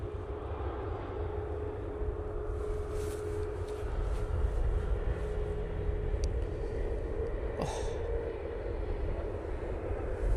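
An airliner at Manchester Airport gives a low, steady engine rumble at moderate distance, with a faint whine and a couple of brief clicks over the drone.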